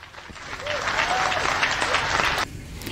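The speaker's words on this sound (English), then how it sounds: "Big smile, big applause." Audience applause rises into a dense, steady roar of clapping, then drops sharply in level near the end as it continues more quietly.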